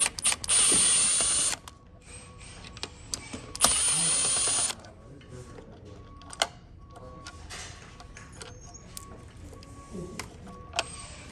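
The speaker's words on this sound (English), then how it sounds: "So we're just gonna go ahead and pop off these screws right here." Two loud bursts of a power screw gun spinning out Phillips screws from the height-adjustment mechanism of an Aeron office chair, each lasting about a second, followed by quieter clicks, taps and handling of metal parts.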